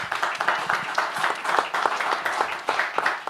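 An audience at a debate-style challenge event applauds, with dense clapping from many hands rising and falling in waves, fairly loud and close, with no voices over it.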